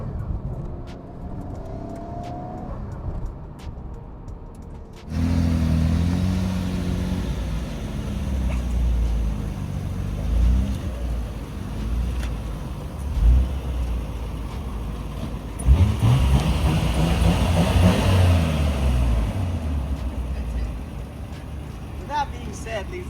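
A Nissan Skyline GT-R R34, just out of two years of storage in Japan, on a test drive: quiet cabin at first, then a loud engine roar with revs rising and falling through the gears over road and wind noise.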